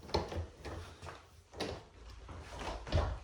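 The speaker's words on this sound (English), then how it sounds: "This door unlocked for a second." A house door in a Bend, Oregon home is handled, giving a few soft knocks and clunks spread over a few seconds against a quiet room background.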